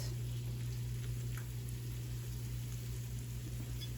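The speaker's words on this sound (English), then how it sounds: "Now I hear that sizzle" Flour-dredged pork chops fry in a pan, giving a faint, even sizzle over a steady low electrical hum, with no talking.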